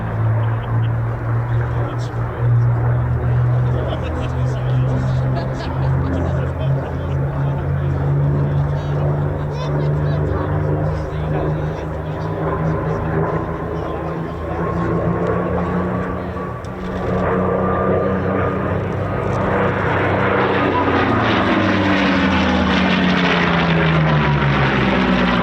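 A 1947 CA-18 Mark 21 Mustang propeller fighter flying at an airshow, its engine drone steady and loud throughout, the pitch sliding as it passes, with an announcer's voice running beneath.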